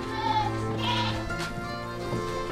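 Goats on a dairy goat farm bleat loudly and repeatedly, overlapping wavering calls rising over a steady farmyard background with no talk.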